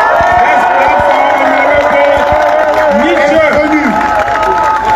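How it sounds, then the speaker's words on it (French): Crowd at a political rally for the MRC party in Cameroon, loud cheering, whooping and scattered clapping blended into a continuous roar, with voices shouting over it. "je demande d'applaudir très fort avant son arrivée"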